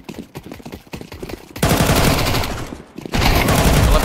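Automatic gunfire in a shooter video game: a close, loud burst of rapid shots, a short drop, then another sustained volley right after.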